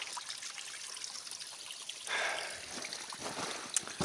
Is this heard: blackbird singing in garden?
no